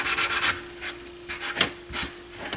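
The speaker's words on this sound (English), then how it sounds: "this is just some 600 grit sandpaper I had sitting on the bench" A 600 grit sandpaper sheet rubs back and forth over a Technics SL-B30 turntable dust cover with quick rhythmic rasping strokes, close and fairly clear.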